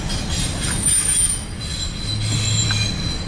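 A CSX intermodal freight train with an SD70AC locomotive passing close by, its rolling cars giving a steady rumble while a sustained wheel squeal rises over the noise near the end; no voices.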